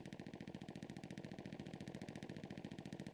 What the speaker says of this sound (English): I can hear what sounds like a MG.